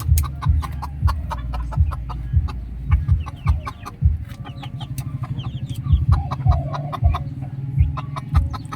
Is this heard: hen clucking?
yes